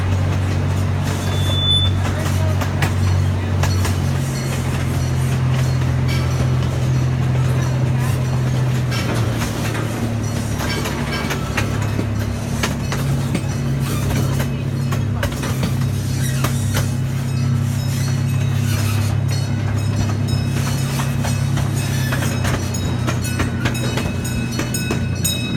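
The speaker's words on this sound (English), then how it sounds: "We ask that you please remain seated until the train comes to a complete stop" A miniature train at a children's zoo slows toward a stop, with a low steady engine drone and hum, faint clanks and mechanical rattle running continuously at moderate volume.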